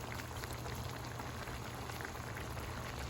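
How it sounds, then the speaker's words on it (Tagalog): Water at a rolling boil in a cooking pot with malunggay leaves, for a budget Filipino ulam. It makes a steady, dense bubbling and simmering hiss that continues evenly throughout with no talking. "Dahil kumukulo na"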